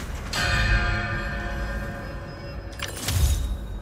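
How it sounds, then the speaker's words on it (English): Improvised bell struck in Marvel's Spider-Man 2 to recreate Kraven's bell, a small object the same shape as the bell: two metallic strikes, each with a long shimmering ringing tail, fairly loud and close. "Gotta recreate the sound of Kraven's bell."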